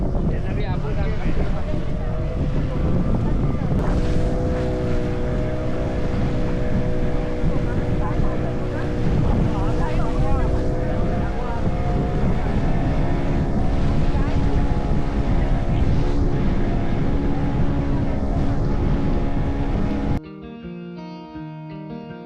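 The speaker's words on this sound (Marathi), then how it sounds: "थोड्याच वेळाने ही बोट आम्हाला घेऊन तारकर्ली बंदर जेट्टी जवळ येऊन पोहोचते" Motorboat engine droning steadily while crossing the sea toward Tarkarli jetty in Malvan, Konkan, a loud continuous hum with wind buffeting the microphone, ending abruptly as music takes over.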